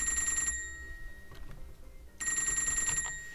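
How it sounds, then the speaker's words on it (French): An electronic phone ring in a video game sounds twice, each a bright trilling burst separated by a pause with faint game ambience, no voices. "Téléphone qui sonne."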